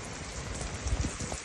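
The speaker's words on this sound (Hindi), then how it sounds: "बारिश शुरू हो गई है।" Rain falling steadily outdoors as a storm sets in, a soft broadband patter with a few heavier low thumps of drops near the middle, heard alone with no talking.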